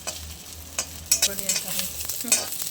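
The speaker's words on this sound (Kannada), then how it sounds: "ಮೆಣಸಿನ್ಕಾಯಿ ಮಾತ್ರ ಉಟ್ಕೊಳ್ಳೋಣ ಇದು ಸ್ವಲ್ಪ ಚೆನ್ನಾಗಿ ಫ್ರೈ ಮಾಡ್ಕೋಬೇಕು" Red chillies frying and being stirred in a pan for an Andhra-style chilli chicken gravy, with a steady close sizzle and repeated scraping, clattering strokes of a spoon against the pan.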